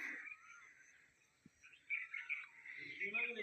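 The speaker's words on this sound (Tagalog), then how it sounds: "Ibon lang maririnig mo." Birds chirp and call faintly in a quiet garden, with soft tweets and warbling phrases at a distance and a single small knock partway through.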